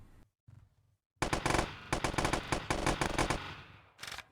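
Rapid close-range gunfire in the video game See Me during a boss fight against strong enemies, a few faint shots first, then a loud dense burst of automatic fire and one final short volley.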